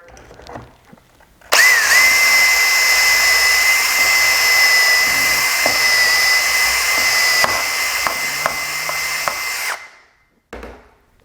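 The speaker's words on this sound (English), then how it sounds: "now that we've got everything set up, we're ready to do our drill" A power drill boring a hole through a cabinet for hardware whines at a steady high pitch for several seconds, close and loud, then slows in a few short bursts before stopping.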